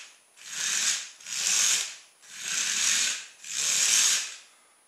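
Motor of an electromagnet crane model whirring in four even bursts of about a second each with short pauses between, close and alone.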